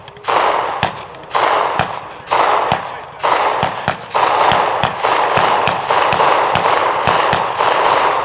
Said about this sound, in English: the M1 Carbine.